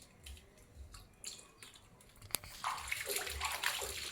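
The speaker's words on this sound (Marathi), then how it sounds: "हे पाणी मी तीन तासानंतर परत ओतून देत आहे" Water splashes and gushes out of a clay pot, a light trickle building into a steady, louder pour near the end.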